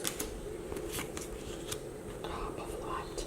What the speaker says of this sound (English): the cards are a little bit slippery, but not in a bad way. They actually shuffle really nicely